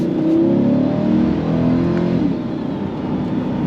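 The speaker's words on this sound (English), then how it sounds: "And it's going to quiet up the exhaust" A 2026 Chevrolet C8 Corvette Z51 engine and exhaust rev loudly and hold a steady, throaty drone with rising and falling pitch, then ease slightly near the end, with no talk over it.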